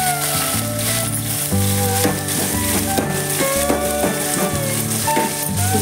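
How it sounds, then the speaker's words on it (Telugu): Onions fry in a pan with green chillies while a vegetable biryani is being made. A soft, steady sizzle sits under loud, prominent background music that carries a clear melody and bass line throughout. "ఉల్లిగడ్డ కొద్దిగా వేగాలి."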